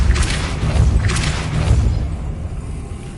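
A Depulso spell cast in Hogwarts Legacy, heard as two quick whooshing bursts over a rumbling boom that fades into a quieter tail.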